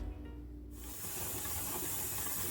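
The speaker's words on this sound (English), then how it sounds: "I'm at a full vent right now, full steam vent." A pressure canner full of green beans reaches a full steam vent: after a low, quiet stretch, a steady broadband hiss of escaping steam suddenly bursts in and holds loud and constant, with no voices.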